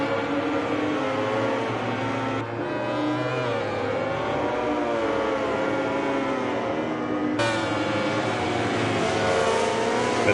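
Ducati and LCR Honda racing motorcycles in an esports racing video game, heard as a steady, loud engine whine that rises and shifts pitch continuously, with a sudden change in tone partway through and no talk.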